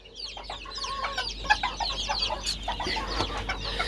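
White grass quails and young chicks in a brooding pen give busy, overlapping high chirps and peeps, close and continuous, with a few louder clucks.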